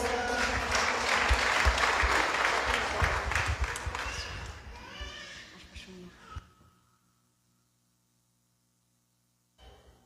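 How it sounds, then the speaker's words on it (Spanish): Strong applause from a Catholic gathering after Q'anjob'al hymns, loud and dense for several seconds, then thinning and dying away into near silence with a brief sound at the very end. "Unos con fuertes aplausos."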